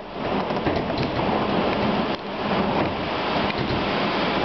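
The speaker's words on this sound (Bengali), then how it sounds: "দেখছো বৃষ্টি, দেখছো বৃষ্টি।" Heavy rain driven by strong wind during a July storm in Winnipeg, a dense, loud, continuous roar of downpour and gusts throughout, with no talking.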